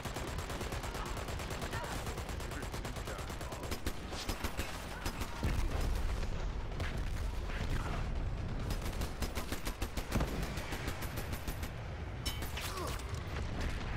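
Rapid SMG gunfire from the online shooter Dirty Bomb rattles in dense bursts with short pauses, mixed with other battlefield shots and game effects while a player talks over it.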